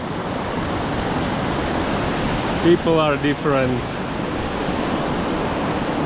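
Steady rushing water of an Alpine mountain stream in Austria, a continuous broadband roar filling the whole clip, with a person speaking briefly over it near the middle.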